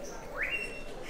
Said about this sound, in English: Can you imagine you're recording the sound of a bird